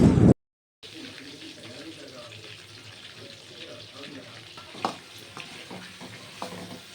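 Brinjals frying in oil for a stuffed brinjal masala curry, a soft steady sizzle with occasional stirring clatters after a brief loud burst and a moment of silence at the start.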